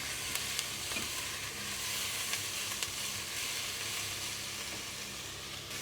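Fried rice with capsicum and garlic sizzling in a pan, a continuous soft hiss with a few faint clicks of stirring, fairly quiet and without speech.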